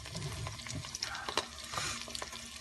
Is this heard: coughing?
no